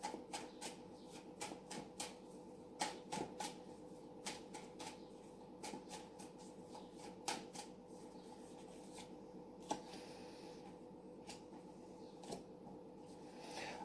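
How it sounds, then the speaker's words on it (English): Tarot cards being handled and laid out during a reading, with repeated soft flicks, slaps and shuffling rustles at an uneven rhythm, close and quiet, with no talking. "I'm going to put a couple more cards on this one."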